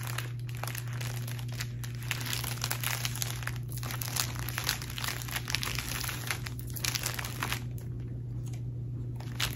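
Paper gift packaging crinkles steadily as it is folded and creased, close and soft, over a constant low hum.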